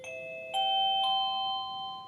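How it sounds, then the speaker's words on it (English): A wireless doorbell rings out a three-note chime, each clear tone stepping in and ringing on before slowly fading, heard alone in a quiet room. "is a wireless doorbell"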